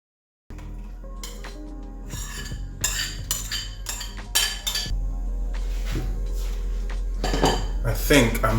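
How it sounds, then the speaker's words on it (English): Spoon scraping and clinking against a metal pot while stirring a thickening sauce, with repeated close clatters and knocks over a steady low stove hum, no talk. "add about 2 spoonfuls for now, and then mix this."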